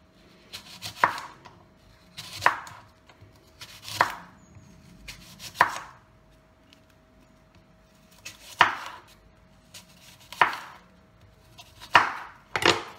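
Apples being sliced into very thin pieces for dehydrating, with eight crisp knife chops through fruit onto a board, spaced irregularly about one to two seconds apart, close and clear with no talk.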